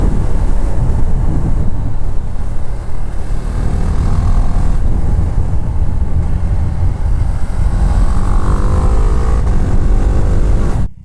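A Husqvarna Vitpilen 701 motorcycle rides past with a loud, steady engine roar lasting throughout, broadband and close, with a rising engine tone toward the end before cutting off.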